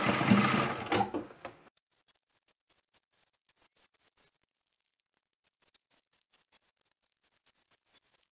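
A sewing machine stitches a supermarket-style shopping tote bag, whirring in a loud, close burst for about the first second and a half before stopping, leaving near silence with faint small clicks and handling sounds.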